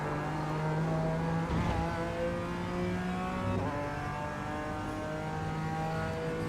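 A BMW M4 GT4 race car in the iRacing sim pulls hard out of a Suzuka corner in fourth gear, its engine note rising steadily and loudly, with a brief rasp partway through.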